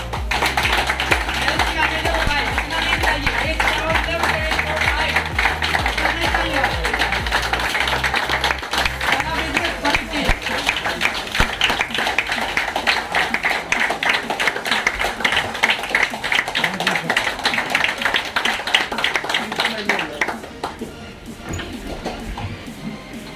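An audience at a Delcon Homes award ceremony clapping to welcome a guest, sustained brisk applause from many hands over background music and voices, fading out near the end.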